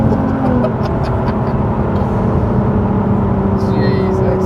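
A 1000-horsepower Nissan R35 GTR accelerates on a damp road, its engine a loud sustained roar that climbs in pitch from inside the car, with no talk over it.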